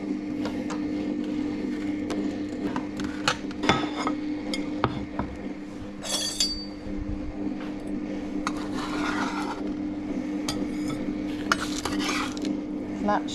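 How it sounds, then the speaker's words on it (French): Freshly baked, slightly cracked cookies are moved onto a plate in a kitchen, with close clinks and scrapes of utensils and dishes over a steady appliance hum, no voices. "je vais en profiter pour mettre nos petits cookies sur une assiette pour qu'ils refroidissent un petit peu plus vite"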